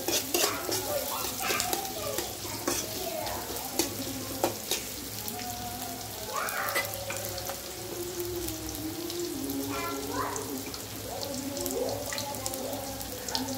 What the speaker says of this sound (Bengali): আমি এখন পেঁয়াজগুলোকে একটু ভেজে নিব।